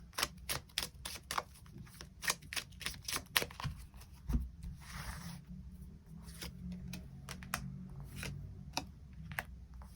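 Tarot cards are shuffled and drawn at close range, with a burst of rapid riffling clicks followed by softer card handling and sliding. No one speaks.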